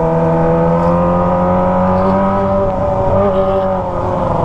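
A Kawasaki ZX25R motorcycle fitted with a Toce exhaust drones at high revs while passing through a crowd, a loud continuous harmonic engine whine held steady throughout, close by.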